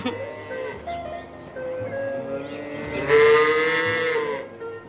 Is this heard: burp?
no